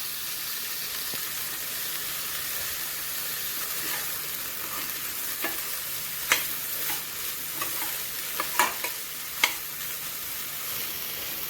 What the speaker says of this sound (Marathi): मूग आपण मसाल्यांसोबत चांगली मिक्स करून घ्यायची आहे